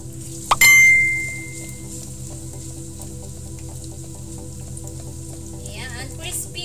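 Vegetable fritters (ukoy) dropped into hot oil, a loud initial splash and sharp sizzle that settles into steady frying crackle, with a bright ringing tone near the start.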